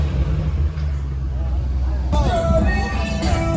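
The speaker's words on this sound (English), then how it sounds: "Why are you revving?" A loud cammed Corvette C5 engine rumbles low and steady, then revs up sharply partway through with a rising choppy snarl, heard from inside the car among voices.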